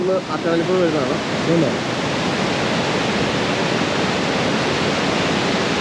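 Water from the Thovala dam rushes near the Erattayar tunnel in Idukki as a steady, loud, broadband roar, with a voice briefly over it at the start.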